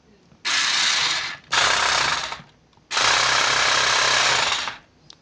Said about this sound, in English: the tracks are not on this thing right now, and it's actually rubbing against the screwdriver. That's why you're hearing that racket.